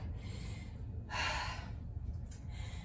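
Heavy, slow breathing from a person resting between sets of a heavy-bag workout, with one louder exhale in the middle, close and quiet against a low background hum.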